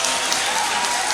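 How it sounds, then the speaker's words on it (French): A crowd at a general assembly of a political party applauds, with loud, dense, continuous clapping filling the whole moment. "Applaudissez pour le vice-président,"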